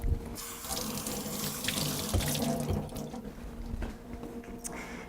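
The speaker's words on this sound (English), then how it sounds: "So the first thing we'll want to do is just rinse off your butternut squash." A kitchen tap runs steadily into a sink while a butternut squash is rinsed under it. The close, constant splashing stream shifts slightly as the water hits the squash, with no talking.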